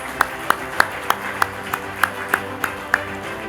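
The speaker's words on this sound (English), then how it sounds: "Please give her a huge round of applause." Sparse, evenly spaced claps sound at an awards ceremony, about eleven sharp hand claps in a steady rhythm over a low room murmur.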